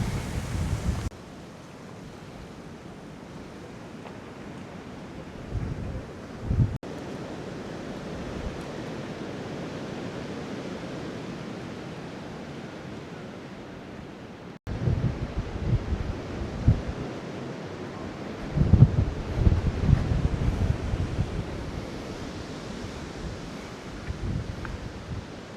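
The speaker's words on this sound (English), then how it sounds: "I do apologize if you hear the wind." Gusty wind buffets the microphone in rushing bursts, easing off for a stretch before roaring back stronger near the end; no voices.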